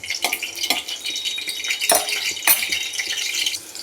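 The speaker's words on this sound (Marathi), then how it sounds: "ह्याच्यात लसूण, आलं आणि मिरची तळून घेते।" Garlic, ginger and chili fry in a pan with a steady bright sizzle, punctuated by a few sharp scrapes and clinks of a utensil against the pan.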